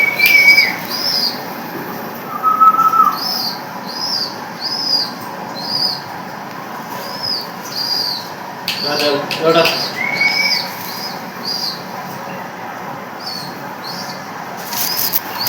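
Pigeons coo softly in the distance over a steady outdoor hum, with a brief flurry of flapping wings midway and a few chirps.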